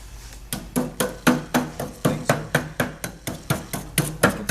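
Deposits are chipped out of an Upland 207 pellet stove during cleaning, with around sixteen sharp metallic strikes in a steady, quick rhythm, close and fairly loud.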